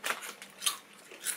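Close, crisp crunches of someone biting and chewing Tayto potato crisps, three short crackling bites spaced about half a second apart.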